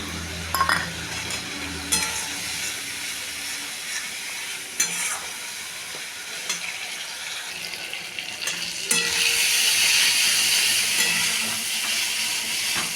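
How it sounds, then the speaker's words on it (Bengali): Spice masala of ground coriander and other spices stirred and fried in a pan for a duck egg curry, with a steady close sizzle, scraping clinks from the spoon, and a louder burst of frying hiss near the end. "ওই মশলাটা দিয়ে দিলাম নাড়াচাড়া করবো মশলাটা কষবে অনেকক্ষণ"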